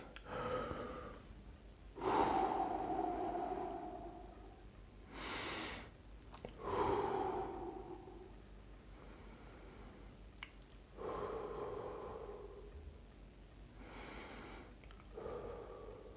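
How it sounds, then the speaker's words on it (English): Deep, slow guided breaths taken with a Fitbit Charge 2 wrist tracker, heard as several drawn-out, airy inhales and exhales close to the microphone, separated by quiet pauses, with no talking. "So basically it's sensing my breathing and it relates that to your heart rate and tries to get you to calm down."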